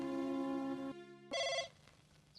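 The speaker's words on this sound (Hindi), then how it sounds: "किसका फोन है?" A telephone rings in a Bollywood comedy film, a steady electronic trill with a brief pause and a second burst, fairly loud and alone.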